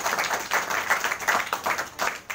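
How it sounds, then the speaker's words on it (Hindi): Children in a class clapping together, a short, steady round of fairly soft applause with no talking over it. "वेरी गुड, ताली बजा दीजिए।"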